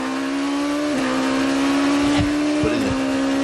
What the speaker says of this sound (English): See the engine note lift up a lot as the rear tires break traction with the asphalt.